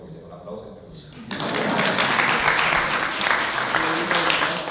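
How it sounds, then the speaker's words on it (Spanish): An audience breaks into applause at a book talk, a sudden burst of clapping after a quiet moment that then holds steady and fairly loud to the end, with a voice faintly audible beneath it. "Un aplauso."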